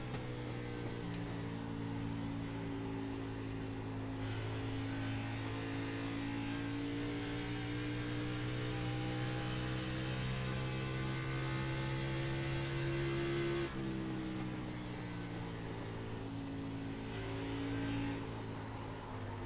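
A NASCAR race car at Nashville Superspeedway drones on at race night under throttle, its engine note holding steady with a couple of abrupt pitch shifts, distant and continuous over a background hum.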